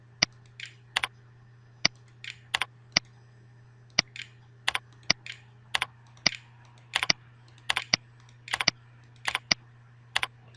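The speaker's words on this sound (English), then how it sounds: "all we simply need to do is start typing by clicking the letters we wish to type" Mouse clicks selecting letters on the Windows 7 on-screen keyboard in Microsoft Word, sharp close single and double clicks at an irregular pace over a steady low hum.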